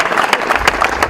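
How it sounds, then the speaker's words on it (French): An audience applauds a football academy coach at a Ngania studies event in Tsongo, a short burst of crowd clapping at steady close volume with no talk over it. "On acclame pour le coach."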